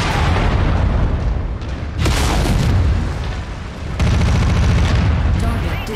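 Heavy explosions hit in a MechWarrior 5: Mercenaries battle as an incoming missile strikes, with loud booming blasts landing near the start, at about two seconds and at four seconds over a constant din of combat.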